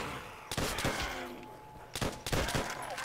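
Rapid-fire gun in a custom zombies map video game, two loud clustered volleys of shots about a second and a half apart over continuous game noise.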